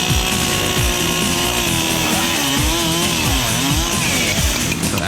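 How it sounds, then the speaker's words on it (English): A chainsaw roars loudly and continuously, its pitch dipping and rising repeatedly as it cuts through a film-effects dummy loaded with blood bags and goo. "after the chainsaw passes through it"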